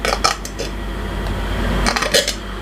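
Salmon som tam being tipped onto a plate, heard as clattering dish and utensil knocks in short bursts at the start and again near the end, close and fairly loud over a low steady hum.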